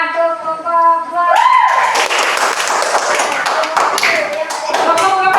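Classroom applause for a student group, a burst of clapping that starts abruptly after a held tone and continues steadily at close range, with voices talking over it.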